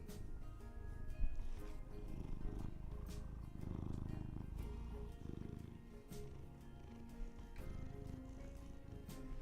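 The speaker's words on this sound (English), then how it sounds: "You can hear him purring." A ginger cat purrs close up, a steady low rumbling drone that runs continuously with slight swells, no voices over it.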